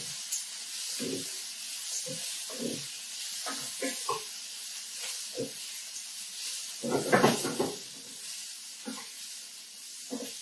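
Starch-coated shrimp are stirred in a hot pan: a continuous hiss and sizzle runs under scattered scraping and shuffling strokes, with a louder burst of movement partway through and no voices.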